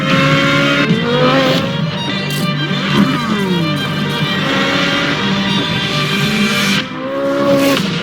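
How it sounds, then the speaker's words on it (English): A Corvette race car with a naturally aspirated V8 drives past at speed, loud close engine note rising and falling through gear changes and revs, a continuous roar throughout. "The highest horsepower naturally aspirated V8 in automotive history."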